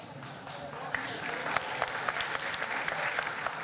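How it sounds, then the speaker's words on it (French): An audience at a French political campaign event in Avignon claps, a dense, steady patter of many hands that swells slightly and keeps going throughout, heard from a moderate distance. "Vous applaudissez"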